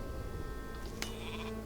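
A sheep bleats once, short and faint, in the Viking-era strategy game Northgard, over a steady background of game ambience and music.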